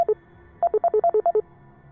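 An electronic telephone rings with clipped alternating two-pitch tones, first a short pair, then a pause, then a rapid run of eight beeps, loud and clear with nothing else audible.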